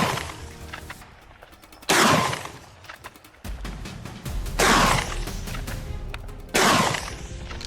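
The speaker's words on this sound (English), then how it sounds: "a volley of gunshots rang out, stopping them before they could set foot on the main road" Gunfire from a hunting party shooting at wild boars near a road on a Texas farm, several loud sharp reports spaced a second or two apart, each with a ringing tail, heard alone outdoors.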